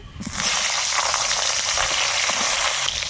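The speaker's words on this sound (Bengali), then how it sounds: "এবার মাছ ভাজা তেলেই আমি বেগুনগুলো ভেজে নেব" Long brinjal pieces fry in hot oil left over from frying pabda fish. A loud, dense, continuous sizzle starts abruptly after a brief pause and holds steady at close range with no talk over it.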